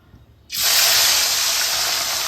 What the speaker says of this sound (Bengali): তেল গরম হয়ে গেছে মাছগুলোকে আমি এবার ভেজে নেব